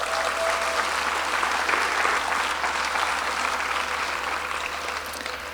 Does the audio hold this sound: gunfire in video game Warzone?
no